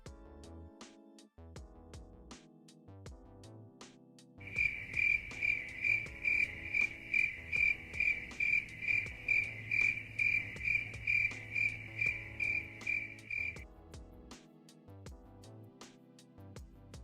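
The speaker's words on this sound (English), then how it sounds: "Crickets." Cricket chirping sound effect played during a live trading stream, a steady rapid pulsing trill that starts a few seconds in, runs loud for about nine seconds, then cuts off, over a quiet repeating background tone.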